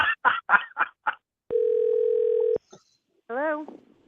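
A steady telephone dial tone holds for about a second as a call is placed to guests on a call-in radio show, with speech before it and a short voice-like sound after.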